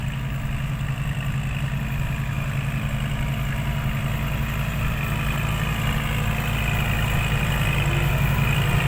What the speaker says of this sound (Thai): ขับรถไถมาแล้ว